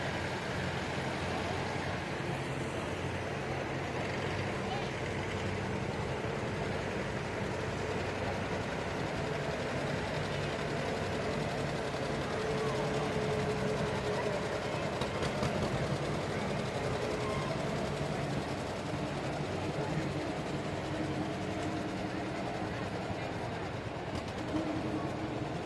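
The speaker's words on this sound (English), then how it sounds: "They've all got collector tractors driving in." Collector John Deere tractors roll past in a small-town Fourth of July parade, a steady low engine rumble continuing throughout alongside outdoor crowd noise and occasional talk.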